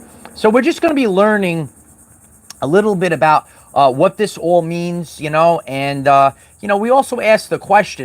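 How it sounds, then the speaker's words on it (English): Cicadas keep up a faint, steady, high-pitched drone in the background while someone talks almost continuously over it. "Can you hear the cicadas in the background?"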